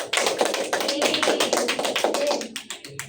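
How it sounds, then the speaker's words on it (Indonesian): Children clap together in a classroom, a dense run of handclaps lasting about three seconds that thins out and stops near the end. "Beri aplaus dulu anak-anak."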